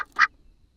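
A single short nasal quack from one of four homestead egg-laying ducks, close and fairly quiet, followed by near silence.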